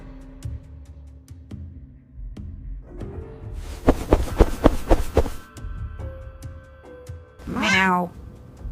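A cartoon mother cat meows in a quiet night scene, a clear rising-falling meow near the end following a throbbing, rhythmic burst of sound; the meow may be a voice imitating a cat.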